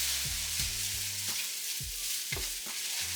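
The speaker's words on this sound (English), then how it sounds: "And then I mix it all together." Vegetable fried rice with hoisin sauce being mixed and stir-fried in a pan, a constant hiss of sizzling oil with irregular scraping strokes of a spatula, no voices.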